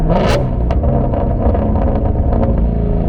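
Shelby GT350 V8 revving hard in second gear, a loud close roar with sharp rising pitch and crackling bursts over a continuous heavy engine drone.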